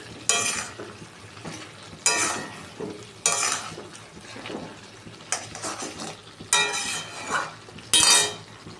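Tomato curry stirred and fried in a pan over a medium flame, a spoon scraping in repeated bursts over a steady low sizzle, with occasional clinks against the pan.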